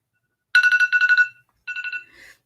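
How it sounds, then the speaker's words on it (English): Phone alarm ringing in two quick bursts of rapid warbling beeps, close and fairly loud, with no talk over it. "That's my alarm telling me it's been an hour."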